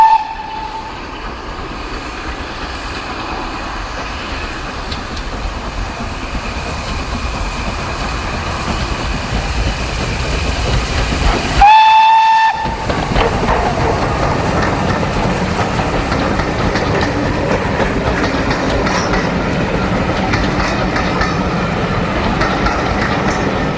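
Steam locomotive Repton works hard on the climb out of Alresford on the Mid-Hants line, a loud sustained chuffing roar with a brief sharp whistle blast midway, then continuing heavy exhaust beats.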